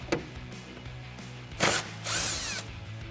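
A power tool spins out headlight bolts on a Ford F-250, with short loud whirring bursts and a rising whine up close and no speech.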